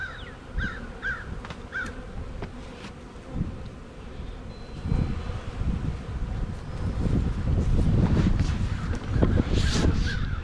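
Bees buzzing around a newly installed hive outdoors, a loose, steady hum that swells louder toward the end, with crows cawing in the distance early on and some wind.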